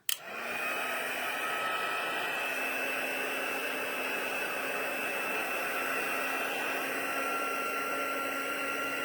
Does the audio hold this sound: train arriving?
no